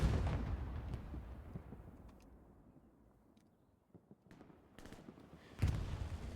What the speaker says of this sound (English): That's a Syndicate bombing run.